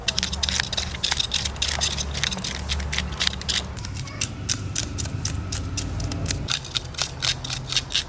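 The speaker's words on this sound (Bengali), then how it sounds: "আঁশটা কি সুন্দর ছেড়ে যাচ্ছে আঁশ ছাড়ানো হয়ে গেছে" A large Sundarbans bhetki, about three to three and a half kilograms, being scaled by hand, giving a rapid run of crisp scraping strokes up close, with a low hum running underneath.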